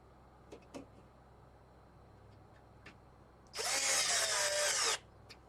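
A power screwdriver whirs as it drives a screw into an MSI laptop during a rebuild: one loud, steady burst of about a second and a half, close, following a few faint clicks and handling taps in a quiet room.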